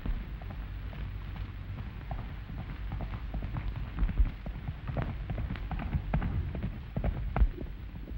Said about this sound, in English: Here comes his horse.